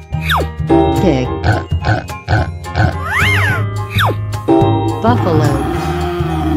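Pig grunting and oinking in a children's animal-sounds sequence, a series of short choppy grunts over steady background music, close and loud.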